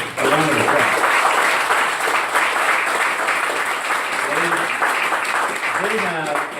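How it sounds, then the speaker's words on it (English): A church congregation applauds for its children's workers, a loud steady round of clapping that fills the room for several seconds, with a voice speaking briefly at the start and again near the end. "let's just give our children's workers a round of applause."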